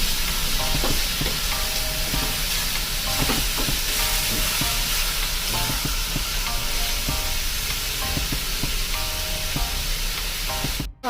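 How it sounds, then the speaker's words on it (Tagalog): Chicken fries in a pan with tomato, giving a loud, steady sizzle under repeated stirring clatter that runs unbroken for about eleven seconds, with no talk. "Yan natin na ma-fried yung ating chicken."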